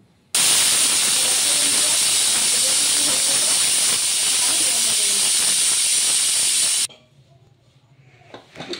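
A pressure cooker boiling food for a pitha sweet blasts a loud, sustained hissing steam whistle for about six seconds, which cuts off abruptly and leaves faint kitchen clatter.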